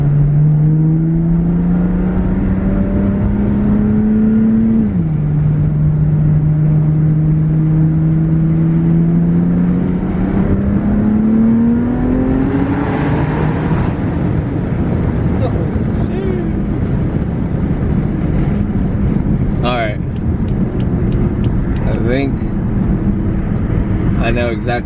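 A BMW F80 M3 with a Bootmod3 Stage 2 tune drives through an underpass, its engine droning loud and close as revs climb, dip at a shift, then rise again, with crackling pops and wind rush later on.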